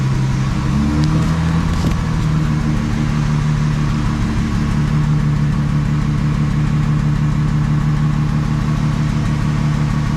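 A Jaguar Mk2 3.8 with a manual gearbox runs close by, holding a loud, steady idle with a constant low rumble from start to finish. A small rise in revs comes early on.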